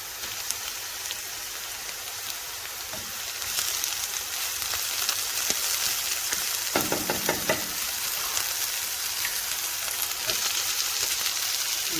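Onions sizzling in olive oil with coriander, a dense continuous crackle and hiss close up that swells slightly midway, with no voices.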